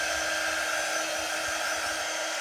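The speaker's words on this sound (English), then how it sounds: "So I'm going to go ahead and dry it with my heat tool." A handheld heat tool blows steadily to dry a thin coat of paint on a craft piece, giving an even, continuous whirring hiss that lasts the whole time with no talk.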